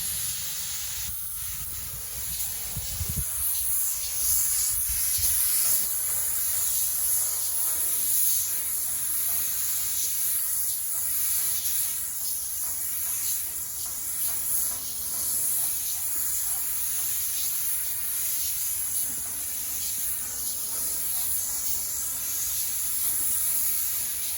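A spray gun paints a stock trailer, giving a continuous loud hiss of spraying air that runs steadily with little break, a brief low thump near the start.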